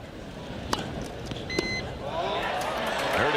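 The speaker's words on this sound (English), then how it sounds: "Heard the beep, though." A short electronic beep sounds at a 1984 tennis match, a brief tonal bleep amid crowd murmur and a commentator talking over the broadcast.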